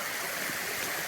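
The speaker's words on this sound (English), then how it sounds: "Now you can see there's this big wide waterfall there, which I really love." A broad, wide waterfall pours steadily over rock, a dense continuous rush of water close by with no pauses.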